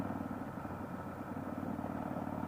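Steady engine drone from a Harley-Davidson V-Rod motorcycle ridden by a young woman, a continuous even rumble held at moderate distance with no voices.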